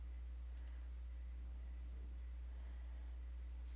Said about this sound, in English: I'm going to actually right click and duplicate that layer